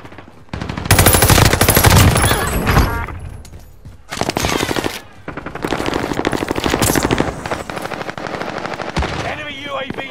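Heavy automatic gunfire from the Call of Duty Warzone battle royale game on the Caldera map, long bursts of rapid shots with short pauses between them, loud and close, with some faint game voice audio mixed in.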